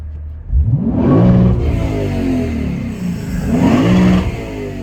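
A Lexus RC F sports car engine revs up hard twice, its pitch climbing sharply each time, loud and close, with a brief easing between the bursts.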